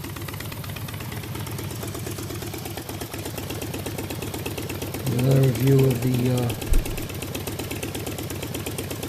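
A Predator small engine idles steadily on a newly installed motor mount, a low even chug running throughout while someone speaks over it near the middle.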